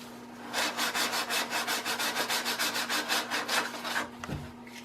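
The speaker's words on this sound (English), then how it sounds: "Don't just sand aggressively at one place." Hand sanding of a wooden gun stock rail, a close, rhythmic back-and-forth rasp of about twenty quick even strokes that stop near the end, with a faint steady hum beneath.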